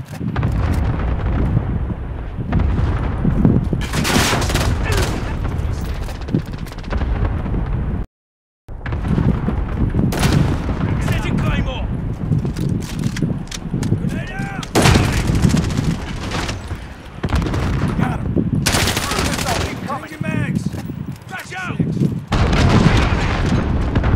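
Call of Duty Team Deathmatch cluster strike: heavy repeated explosions and rapid gunfire rumble nonstop, loud and dense, with bursts of automatic fire and booming blasts, broken by one brief drop to silence, with some voices underneath.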